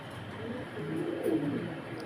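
Soft, low cooing of pigeons, a few throaty murmurs close by over faint background hiss.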